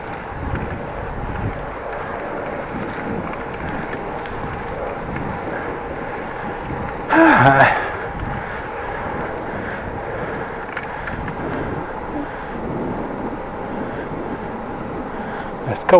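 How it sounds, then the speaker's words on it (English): A helicopter drones at a distance during a bike ride on a road near Groningen in the Netherlands, a steady low hum under wind and road noise with some talking. "Helicopter."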